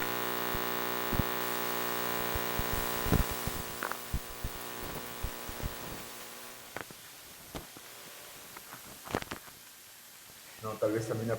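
A steady electromagnetic field hum recorded at archaeological sites drones with layered harmonic tones, broken by scattered sharp clicks and crackles, and a brief noisy burst near the end.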